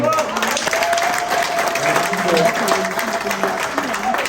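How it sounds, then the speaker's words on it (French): An audience at a French political gathering claps steadily for several seconds in a continuous, fairly loud round of applause with crowd noise mixed in. "Encore une fois, on peut applaudir."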